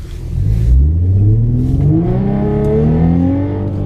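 A car with a freshly flashed UpRev tune revs hard on a dyno, engine pitch climbing steadily in a loud, close, sustained pull with no talk.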